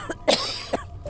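A person coughs during an exploration of an abandoned, reputedly haunted house: two or three sharp, close coughs spaced apart, with no talking.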